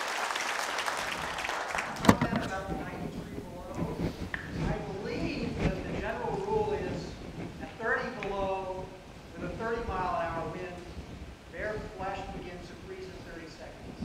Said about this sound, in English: Applause for all of our scientists.